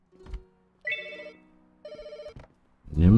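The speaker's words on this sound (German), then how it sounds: "Nimm das Telefon ab." A telephone rings in the video game Pets Hotel, two electronic bell-like bursts with short gaps between them, clear and close, followed by a low thump at the end.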